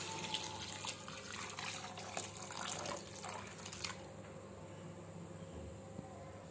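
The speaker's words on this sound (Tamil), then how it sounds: "இப்போ நம்ம குருமாக்கு தேவையான அளவு வந்து தண்ணி சேர்த்துக்கலாம்." Water poured into vegetable kurma simmering in a pan, a steady trickling, splashing pour close by for about four seconds, then a quieter bubbling simmer.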